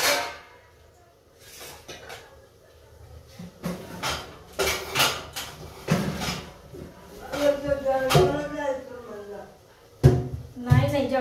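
Pots, plates and utensils clatter and clank in irregular bursts as dishes are washed in a home kitchen, with someone talking over the knocks and scrapes.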